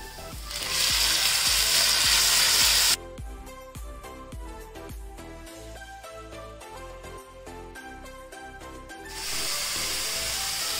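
Chopped tomatoes dropped into a pan of cooked onions for a South Indian tomato onion chutney, a loud sizzling hiss at first, then quieter scraping and stirring before the frying hiss swells again.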